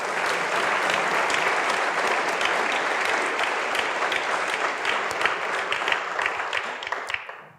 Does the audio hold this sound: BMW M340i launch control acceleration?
no